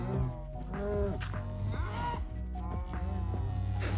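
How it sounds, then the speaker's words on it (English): Several Minecraft cows low in overlapping, drawn-out moos, close and loud, one after another with little pause between calls. "There's a lot of mooing going on right now."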